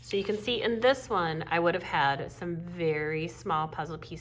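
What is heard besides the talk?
No everyday noise stands out behind the speech.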